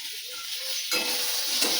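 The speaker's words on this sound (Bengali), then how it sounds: "এখানে করছি পটল ভাজা পটল ভাজা" Pointed gourd (potol) frying in a pan, a steady close sizzle with stirring scrapes that grows louder and denser partway through.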